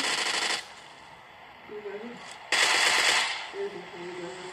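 A Scorpion machine pistol fires rapid full-auto bursts in the PUBG video game. Two loud close bursts are separated by a pause, and players talk faintly in the gaps.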